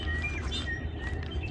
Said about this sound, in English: If anybody knows what kind of birds those are, let me know.